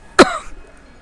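One sharp, loud cough from a person at close range, a single burst that fades quickly into near silence.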